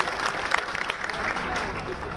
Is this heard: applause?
yes